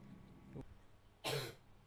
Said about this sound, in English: stop coughing. You're ruining the video